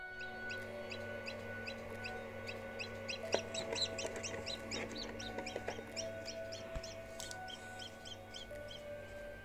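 Rapid, high chirps from a newly hatched chick in a small four-egg incubator repeat continuously, fairly faint, over a steady low hum.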